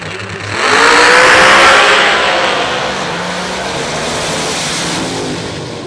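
A Pro Mod drag racing car on nitrous launches with a loud, close roar that peaks quickly, then settles into a sustained, slightly fading engine drone as it pulls away down the strip.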